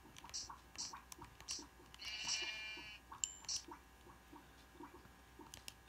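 Sheep in the Nintendo 3DS edition of Minecraft bleat in several short, moderately loud calls, spaced through the clip over quiet game ambience.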